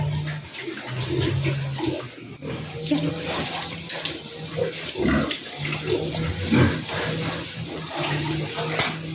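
Several boars grunt in a pen being fattened on a semolina, wheat, pea and oilcake feed, with splashing, sloshing water and a low steady hum running throughout, the grunts recurring close by in irregular bursts.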